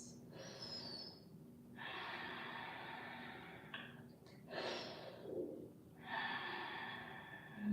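Slow, steady yoga breaths, several long inhales and exhales in a row, soft and close with a faint airy hiss and no talking.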